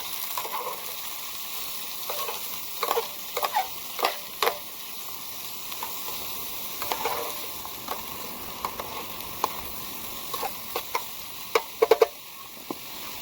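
Onion and garlic stirred in a military pot over a Paplinsky camping stove, a steady close sizzle with scattered sharp scraping clicks from the spoon, no voices.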